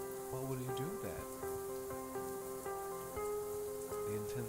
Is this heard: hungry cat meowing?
no